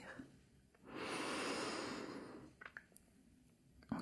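One slow, deep inhale during a calm guided breathing exercise, a soft close-up breath that swells for about two seconds, fades, and is followed by faint small clicks and rustles.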